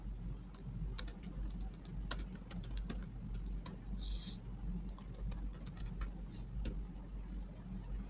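Typing code on a computer keyboard, irregular close key clicks in small bursts with short pauses over a low steady hum, no talk.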